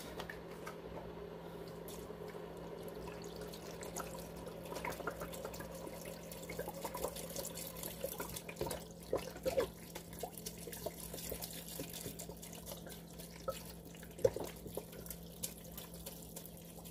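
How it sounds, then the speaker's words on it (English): Vegetable broth poured into a large pot of spicy vegan 13-bean soup, a steady low liquid pour running throughout with small splashes and drips, close and moderately quiet. "adding in the vegetable broth."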